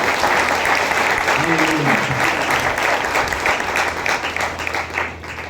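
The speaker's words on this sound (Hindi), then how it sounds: "हाँ, ताली बजा के प्रभु को धन्यवाद।" A congregation at a family blessing church seminar breaks into steady applause to thank the Lord, and the clapping thins out toward the end.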